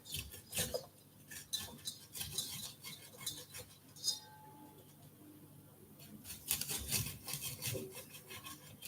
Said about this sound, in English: cut down to let all these beautiful corn kernels come in here